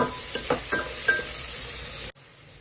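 Turmeric and cumin powder fry in a pan, a soft sizzle broken by a few light clinks of a spoon against the metal before it cuts off abruptly.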